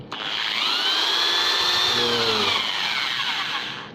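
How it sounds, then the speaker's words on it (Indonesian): Electric drill run off a backup generator during a power cut, spinning up with a sharp start and holding a steady high whine for a few seconds before winding down, loud and close with no talk. "Kemudian kita coba apakah bor ini bisa berputar atau tidak."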